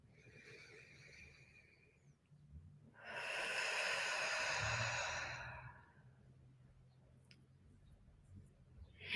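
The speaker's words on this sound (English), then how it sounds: "take a few cleansing breaths" A single slow, deep cleansing breath with a long, soft, airy exhale, faint and close, in an otherwise quiet room.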